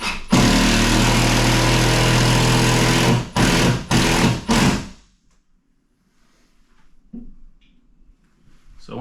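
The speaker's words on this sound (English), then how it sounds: "and start to screw" A power drill drives screws into wall studs while a TV mount is installed, a loud continuous whir for about three seconds, followed by three short bursts, then quiet with faint handling noises.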